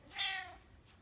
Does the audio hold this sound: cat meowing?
yes